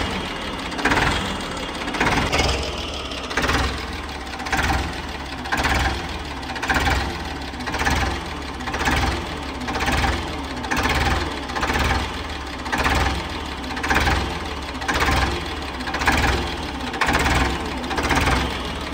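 A modified Ford tractor engine runs steadily with a rhythmic, knocking diesel beat, loud and close, its regular pulses repeating throughout with no talking.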